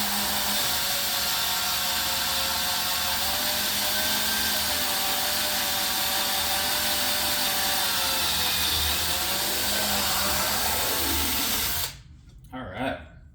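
Power drill boring holes with a drill bit during a DLE 222 engine install on a Hangar 9 Carbon Cub FX 3 model plane, a steady loud whine running for about twelve seconds before stopping, followed by brief handling noise.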